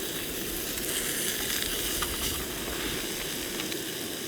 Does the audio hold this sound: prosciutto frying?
yes